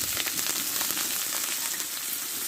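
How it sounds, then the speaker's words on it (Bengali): Thick-cut onion sizzles steadily in hot oil with a bay leaf and whole cumin, a dense, close crackling hiss with no pauses and no voices. "পেঁয়াজটা ভালোভাবে আমি ভেজে নেবো"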